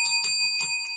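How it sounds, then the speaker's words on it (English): A small bell that tends to stick rings in quick uneven strikes, about four bright metallic hits with a lingering ringing tone between them, close and clear. "This bell sounds a little funky."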